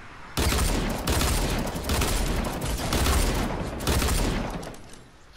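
Dual-wield pistols in Fortnite fire in fast, dense bursts, loud and close, with a few short pauses between volleys before the shots stop.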